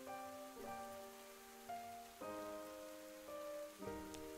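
Soft, steady rainfall in the video game Ender Lilies hisses quietly under gentle, sustained musical notes that shift every second or so, faint and continuous throughout.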